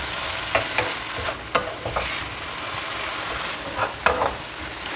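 Bitter greens with garlic stir-fried briefly in a pan, a loud continuous sizzle with a few sharp scrapes and clacks of the spatula at uneven intervals, close up and with no voices.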